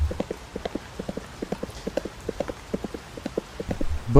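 Rhythmic clip-clop of coach horses' hooves on hard ground, steady and fairly close, trotting along without pause.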